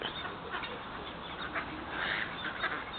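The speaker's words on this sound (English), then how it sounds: "There's that one random little different duck." Ducks calling near a path on the walk home, with goose-like honks and quacks blended into a steady wash of outdoor background noise, moderately loud throughout without any speech.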